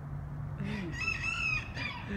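A single rooster crow rings out mid-distance, a drawn-out call rising and falling over a low background rumble.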